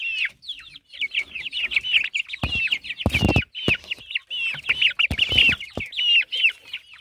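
Indonesian native chickens (ayam kampung) and young chickens keep up busy, overlapping clucking and chirping with no pauses. Some louder, broadband knocks and shuffles also sound nearby.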